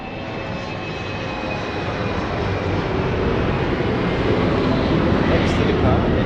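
Airliner taking off at Lisbon Airport, a loud sustained jet engine roar with broad rumbling thrust that holds steady and builds slightly throughout, heard alone without talk.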